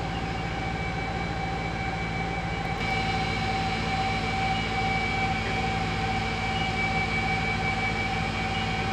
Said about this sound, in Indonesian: Load genset masuk ke perangkat.